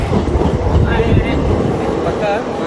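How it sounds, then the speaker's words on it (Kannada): A train pulls into a station on the Badami to Bijapur route with a loud, steady rumble of rolling wagons and rail noise close by, while people talk over it. "ಟ್ರೈನ್ ಬಂದಾಯ್ತು"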